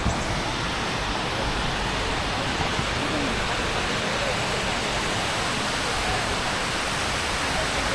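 Waterfalls at Reedy Falls Park in downtown Greenville, South Carolina, heard from a footbridge: a steady, dense roar of rushing water fills the scene evenly throughout, with no breaks.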